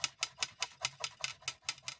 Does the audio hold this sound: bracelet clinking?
yes